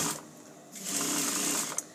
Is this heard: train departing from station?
no